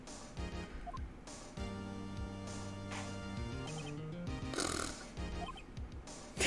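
A person imitates a snore by voice, making a series of rough, rattling snorts and grunts that repeat irregularly, close and fairly loud, with no speech in between.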